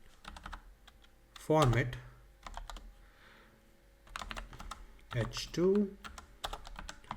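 Close computer-keyboard typing as Rust web code is written, in quick bursts of clicks separated by short pauses, while a voice speaks briefly now and then.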